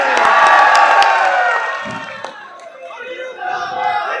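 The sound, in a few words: large crowd cheering at a political rally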